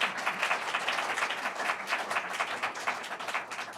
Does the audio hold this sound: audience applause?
yes